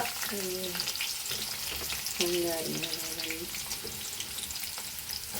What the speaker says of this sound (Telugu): పచ్చిమిర్చి అండ్ కరివేపాకు వేగుతున్నాయి